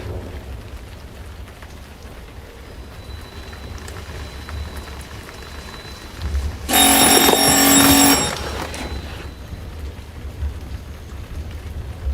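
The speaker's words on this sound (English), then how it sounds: "The phone. It rang once, then it quit." A single telephone ring in a hotel room, with steady rain falling in the background. The ring is loud, lasts just over a second, then stops abruptly while the rain continues.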